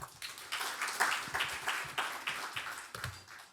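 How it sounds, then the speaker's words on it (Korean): Steady applause from a symposium audience, a dense patter of clapping that continues for several seconds. "큰 박수 부탁드립니다"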